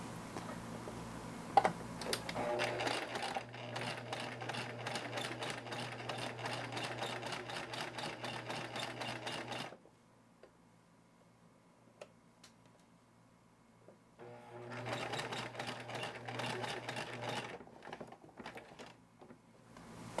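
A sewing machine stitches fabric for a sanitary pad holder in fast, even mechanical bursts, stopping for several seconds of near silence before running again, close and fairly quiet.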